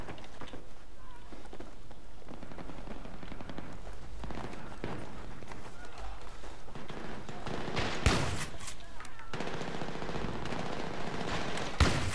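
Gunfire in Battlefield 3 close-quarters combat: rapid bursts of automatic weapon fire, with a louder cluster of shots near the middle, under game noise and someone talking.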